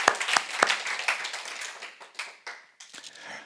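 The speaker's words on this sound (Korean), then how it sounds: "주님께 모든 영광의 박수 올려드리겠습니다" A church congregation at an Easter Sunday service claps together, with sharp hand claps starting loud and close and thinning into scattered, softer clapping as the applause winds down.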